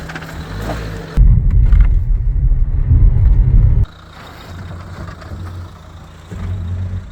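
Dacia Duster driving off-road in Africa, its engine rising to a loud strained roar, dropping back to a lower rumble, then climbing again near the end.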